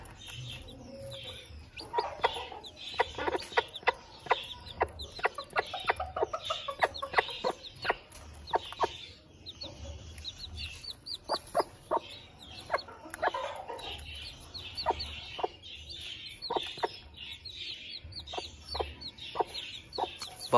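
An Aseel hen clucks repeatedly in short, sharp bursts, close by, with soft peeps from a newly hatched chick and a low farmyard background throughout.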